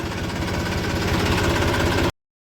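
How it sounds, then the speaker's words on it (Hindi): A tractor engine runs while reversing, a steady mid-to-low diesel drone with a rough rhythmic knock, close and constant for about two seconds before cutting off abruptly, with no voices. "तो ट्रैक्टर को मैं बैक करके उधर लगाता हूँ"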